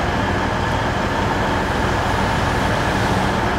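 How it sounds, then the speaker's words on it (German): A regional train bound for Basel at a station, heard as a steady, loud rumble and hiss of rail noise filling the whole stretch without any talk. "Regionalzug, der nach Basel fährt, hier am Fahrbahnhof, fährt um 16 Uhr"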